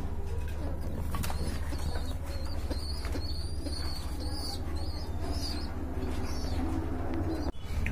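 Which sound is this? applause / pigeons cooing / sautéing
pigeons cooing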